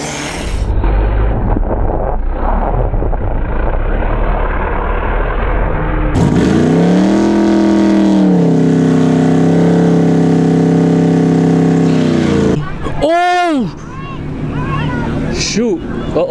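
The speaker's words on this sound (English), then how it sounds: "The Tesla Plaid channel versus a twin turbo pickup truck." A Tesla Plaid and a twin-turbo pickup truck drag race at Showtime Dragstrip, loud engine and drivetrain roar rising and shifting under heavy wind buffeting, with an excited voice shouting over the noise.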